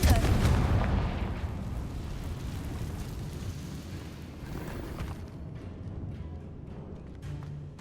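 A spell explosion in a video game: a deep, loud boom bursts at the start, then a long rumbling tail that slowly decays into a faint crackling wash.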